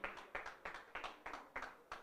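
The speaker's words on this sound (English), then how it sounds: "Round of applause for Mr. Romain" A small audience at a cooperative recognition ceremony claps for an award recipient, a faint, regular rhythm of distinct claps, roughly three per second, with no talking.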